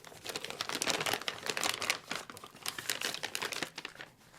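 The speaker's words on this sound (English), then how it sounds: "Taking it out of the bag" Plastic bag crinkles and rustles up close as a Shure SM7B microphone is pulled out, a dense run of crackling handling noise with no speech.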